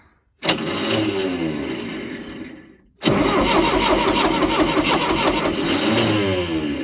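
John Deere 450C logging dozer diesel engine cranking and trying to start with freshly tightened injectors: a loud burst of cranking that fades and stops, then a second sustained cranking run near and alone.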